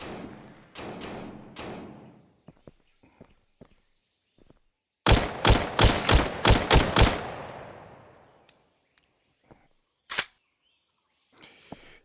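Gunfire in the VR shooter game Tactical Assault VR: a few sharp shots early, then a rapid loud burst of about eight shots with a decaying tail, followed by scattered clicks and one more lone shot, no talking.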